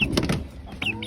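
Chickens cluck in short, close bursts near a backyard coop, a few quick clucks and squawks over faint background noise.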